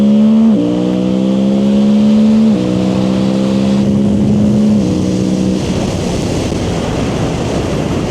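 A Suzuki GSX-8R with stock exhaust, upgraded air filter and ECU flash revs up close, its engine note climbing in a few distinct steps before settling into a rough, steady drone, with no talking.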